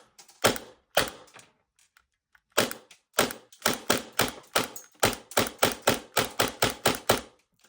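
Airsoft gun shots driven by a budget AliExpress HPA regulator: sharp, close snaps, first a few single shots, then a steady run of evenly spaced shots at roughly two per second, with no talking.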